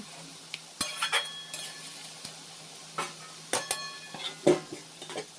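A fish roe mixture is stirred and turned in a pan, with intermittent scraping and clinks of a utensil against the metal over a faint sizzle, the knocks coming in irregular bursts.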